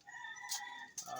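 Gamecock roosters crow at a breeding farm: one close, sustained crow is followed by another, with faint clucking and other birds behind, and no talking.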